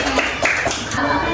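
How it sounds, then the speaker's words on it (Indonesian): Children in a classroom clap their hands in a short burst of brisk, close claps lasting about a second, mixed with voices. "Oke, tepuk tangan untuk anaknya."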